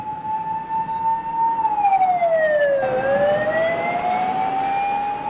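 Ambulance siren wailing loud and near on a city road, a single long tone sweeping down then back up in a slow cycle over traffic rumble, with no voices.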